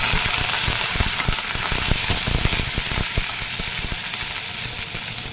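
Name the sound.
curry leaves sizzling in oil with mustard seeds and cumin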